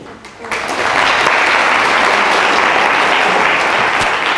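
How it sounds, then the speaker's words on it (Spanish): An audience applauds at a talk, with loud, dense clapping that swells in after a brief pause and holds steady to the end, and no voices over it. "entonces le damos un aplauso al"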